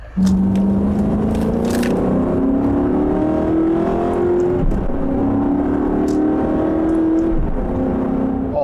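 Maserati Quattroporte engine heard steadily and loud from inside the cabin, rising in pitch through two long acceleration pulls with a brief dip between them, no talk.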